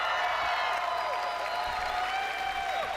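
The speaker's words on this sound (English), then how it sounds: "People are cheering for something that was removed from the game" Audience at a Bethesda conference cheers and applauds in a large hall, a steady, dense wash of claps and whoops filling the whole stretch without pause.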